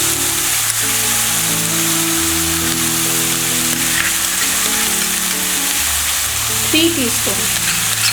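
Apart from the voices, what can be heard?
onion and ginger garlic paste masala sautéing in a pan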